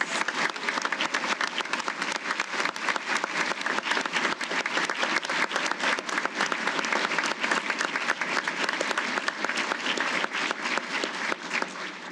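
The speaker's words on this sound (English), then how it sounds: "please join me in a round of applause for today's award winners." Sustained applause fills the hall at the close of the Defense Logistics Agency's 51st annual employee recognition ceremony, a large crowd clapping densely and evenly for about twelve seconds before tapering slightly at the end.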